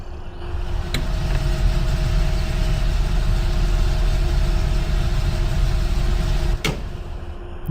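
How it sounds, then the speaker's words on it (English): A tractor engine idling in Farming Simulator 15, a steady droning rumble with a constant hum, held at an even level throughout, with a faint click near the start and another near the end. "we get the clunk sound, but also the engine note"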